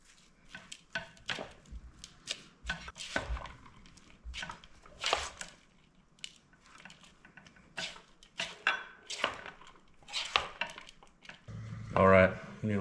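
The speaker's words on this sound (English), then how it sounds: "we're gonna give this a good stirring" Food is stirred in a pot, heard as a string of irregular clinks, taps and scrapes of a utensil against the pot. The sounds are close and fairly light, with quiet gaps between them.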